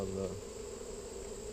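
Honeybees buzzing around an opened hive during an inspection with smoke, a steady faint hum with a continuous whine over low rumble, no talk.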